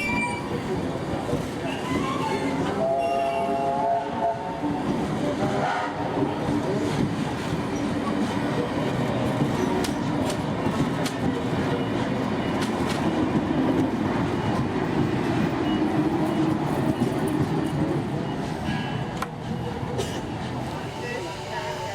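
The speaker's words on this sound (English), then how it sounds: "2705 and 3265 are now departing for the final trip for the Thelmere Festival of Steam" Steam locomotives 2705 and 3265 pull away with a train at the Thirlmere Festival of Steam in New South Wales, a continuous loud rumble and rail clatter with sharp clanks throughout.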